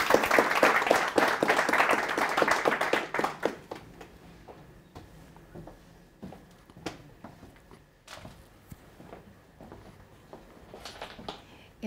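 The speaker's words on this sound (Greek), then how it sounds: "Και πραγματικά το αξίζει το χειροκρότημα" Audience applause for a guest author at a literary talk, steady clapping for roughly three and a half seconds that trails into scattered claps, taps and light room noise.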